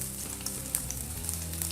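Cabbage sizzles and fries in a hot pan, a steady soft crackle with small pops and light stirring, heard close and fairly quiet with no talking.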